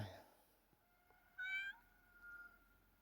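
A hungry cat in a rural village setting gives one short, clear meow in an otherwise quiet room, followed by a softer faint call.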